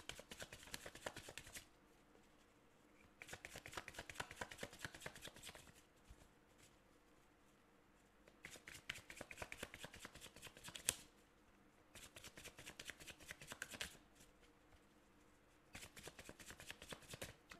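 Tarot cards are shuffled in several separate bursts of rapid riffling, close by, with short quiet pauses between them.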